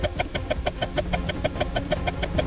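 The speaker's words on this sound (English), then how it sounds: "Let's deactivate the jet engines" Jet engines running in People Playground, a steady mechanical drone with a fast, evenly spaced pulsing beat, loud and close, with no talk.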